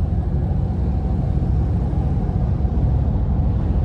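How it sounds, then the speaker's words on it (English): Steady low road rumble inside the cab of a 2024 Ram 2500 Limited Night Edition Mega Cab heavy-duty pickup on the move, a continuous muted drone with no speech. "the sound in here, even though it's a heavy duty truck, it's not overly loud"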